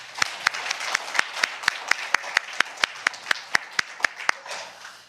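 A church congregation claps at a service marking the church's 59th anniversary. Sharp, fairly regular claps repeat over a soft wash of applause and fade near the end.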